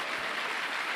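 Audience applause fills the moment at a talk event, a dense steady patter of many hands clapping evenly without pause.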